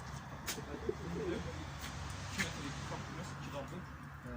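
Pigeons in a loft coo softly and intermittently in the background of a quiet, low-level scene, with faint talk and ambient noise around them.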